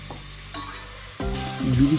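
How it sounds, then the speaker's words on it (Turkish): Oil sizzles and crackles as chopped onions hit a hot pot, with a clatter of stirring and the frying swelling louder. "Daha sonra doğradığım soğanlarımı tenceremin içerisine ilave ediyorum."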